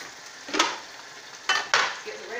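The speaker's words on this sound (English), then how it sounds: "I'm going to go ahead and I'm going to start the red snapper." Red snapper fries in a hot pan, a background sizzle broken by a few sharp bursts of spattering hiss as the fish is moved or stirred.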